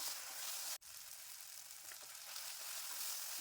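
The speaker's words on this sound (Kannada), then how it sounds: "ಟೊಮೊಟೊ ಸಾಫ್ಟ್ ಆಗೋ ತನಕ ಫ್ರೈ ಮಾಡ್ಕೊಳ್ಳೋಣ" Chopped tomatoes with salt frying in a pan for a vegetable stir-fry, a steady, close hiss of sizzling oil that cuts out for an instant and then resumes, with no talk over it.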